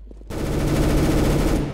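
P90 gunfire in CS:GO, a close, loud continuous rapid burst that starts abruptly after a brief low hum and runs steadily for over a second before cutting off.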